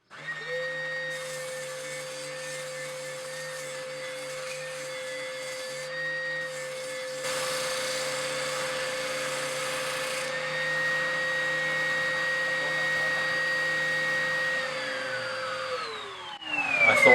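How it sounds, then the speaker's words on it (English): Steady whining hum of a power sander shaping a wooden vinyl rack, running continuously and fairly loud with a slight shift in tone midway, then winding down at the end. "sand it to shape."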